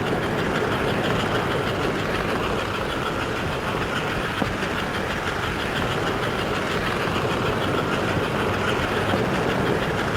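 A continuous rumbling rattle of a model train rolling into a station with air brakes on, steady and fairly loud, with a faint rhythmic clatter running through the whole stretch.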